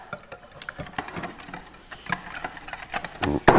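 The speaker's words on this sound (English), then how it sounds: "we have got a whisk here. And we're just going to whisk it up." A whisk beats plain yogurt, mayonnaise and milk together in a small bowl, making a quick run of close, light ticking and tapping strokes in an irregular rhythm, with no talking.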